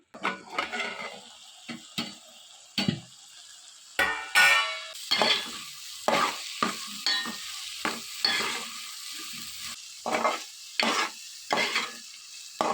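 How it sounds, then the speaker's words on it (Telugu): Green beans and onions frying in a curry pan are stirred with a utensil, giving repeated scraping clicks against the pan over a steady close sizzle, with no talking. "ఇప్పుడు ఇవన్నీ కూడా బాగా మిక్స్ చేసుకోవాలి"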